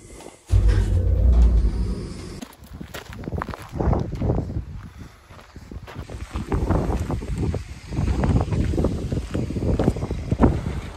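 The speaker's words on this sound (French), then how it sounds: "Il y a v'là du vent là." Gusty outdoor wind buffets the microphone in a loud low rumble at the start, then keeps blowing in uneven surges beneath movement and handling noises.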